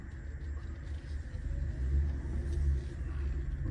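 A Chevrolet rolls through town with a steady low engine rumble and road noise, a smooth continuous drone heard from inside the cabin, swelling slightly midway.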